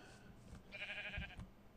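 A sheep in Minecraft with the TerraFirmaCraft modpack gives a single clear bleat, close and fairly quiet, over a soft ambient game background.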